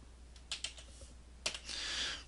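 Keystrokes on a computer keyboard as a CAD command is typed: a few separate taps, then a short quick burst of keys, close and fairly quiet with no talk.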